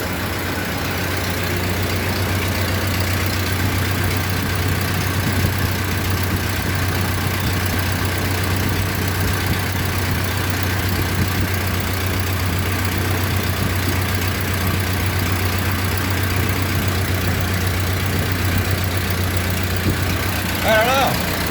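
Model A Ford pickup truck engine idling steadily at close range, a constant low rumble that runs unbroken throughout, with a voice talking briefly over it near the end.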